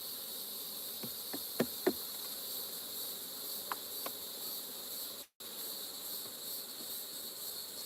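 Insects buzz steadily around a honey bee hive during an inspection, a continuous high drone with a few soft knocks and clicks, no talking.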